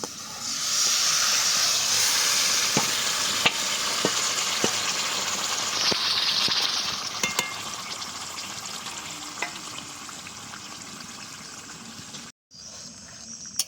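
Marinated chicken hitting hot, well-fried spices for restaurant-style chicken rezala, letting off a loud, steady sizzle with scattered crackles and stirring clinks that soften near the end.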